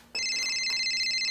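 Mobile phone ringing, a bright electronic ringtone that starts abruptly and pulses steadily at close range, with no talking.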